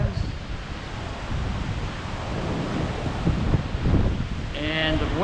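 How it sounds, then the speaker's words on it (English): Strong wind roaring during Hurricane Olaf at Cabo San Lucas, a loud continuous broadband rush with gusty swells, and a brief tonal sound near the end. "the wind has really calmed down quite a bit from what it was just a few minutes ago"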